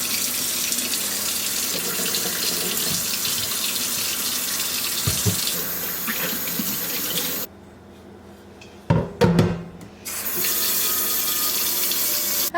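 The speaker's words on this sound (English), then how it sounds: "So I'm going to start by washing and chopping all of my veggies." Tap water runs steadily into a kitchen sink while vegetables are rinsed, with a brief pause near the end as the flow stops, some clattering and splashing, then the stream resumes.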